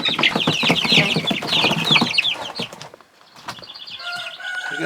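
Young Barred Rock and Jersey Giant crossbreed chickens, recently moved from a brooder into a new pen, cluck and chirp busily at close range, with brief wing flaps and scuffling and a quieter patch before the calls pick up again.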